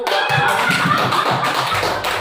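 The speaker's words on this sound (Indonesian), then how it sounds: "Oke, tepuk tangan dulu." Classroom applause from students after a short exchange with a teacher, a dense spread of nearby hand claps filling the room steadily for about two seconds with no talking over it.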